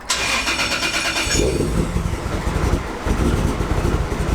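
A 2JZ-powered Nissan Silvia S15 engine cranks and catches, with a whirring starter giving way to a rough, loud, close idle that stumbles and pulses unevenly as it struggles to keep running.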